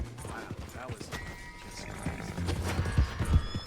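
Hooves clip-clop in Red Dead Redemption 2 as a horse moves along, growing louder and more rhythmic toward the end beneath game sounds and a talking voice.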